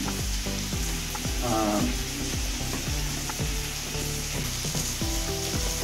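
Fish cooked with garlic paste and chopped onion sizzles steadily in a frying pan while a utensil stirs it in repeated scraping strokes, a close, continuous frying hiss with rhythmic stirring knocks.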